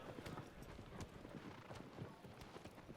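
Horse hooves clip-clopping in the Shadow of the Colossus remaster, a steady galloping rhythm of rapid hoof strikes heard faintly and at a distance, with no talk over them.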